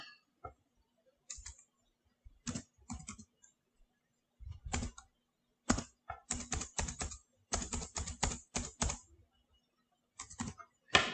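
Credit card details being typed on a computer keyboard: bursts of close, crisp key clicks separated by pauses, faster clustered runs toward the middle and end, quiet room, no talking.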